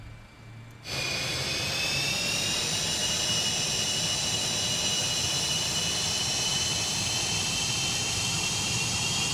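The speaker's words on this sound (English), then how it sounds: "What do I think of the engine sounds, Jeremy?" Steady roar of MD-80 jet engines from a flight simulator sound pack, rising abruptly after a brief quiet start as brakes release for takeoff, then holding a loud continuous whine with high tonal hum throughout.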